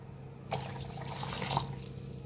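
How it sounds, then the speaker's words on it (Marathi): Water pours steadily into a mixer jar holding gram flour for about two seconds, a close, continuous splashing rush starting abruptly after a brief quiet moment. "आता पाणी ओतून मिक्सरला लावून घ्यायचं आहे"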